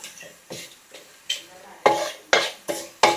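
Chilli and turmeric powder being stirred in a pan, heard as a series of sharp scraping clinks at an uneven pace, close and fairly loud, with light sizzling between strokes.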